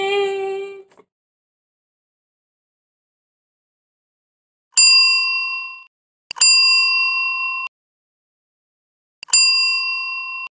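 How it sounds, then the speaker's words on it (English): A notification bell sound effect rings three times, each a bright clean metallic ding that rings out and cuts off, after a short opening chime. "click the bell icon so that you don't get missed with all the notifications of the new video"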